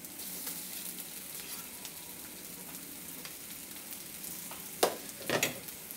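Boiled potato frying with spices in a pan, a faint steady sizzle with a couple of sharper crackles and scrapes near the end, quiet and close, with no talk.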